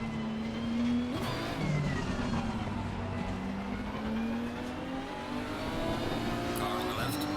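Race car engine in the Assetto Corsa Competizione racing game, revving hard and shifting through gears with rising and falling pitch, other cars audible nearby and a voice speaking briefly over the engine noise.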